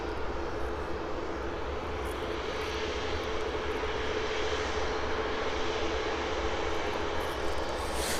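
Aircraft engines drone at an airport as planes start up on the apron, a loud continuous roar with a steady hum that holds evenly throughout, no voices present.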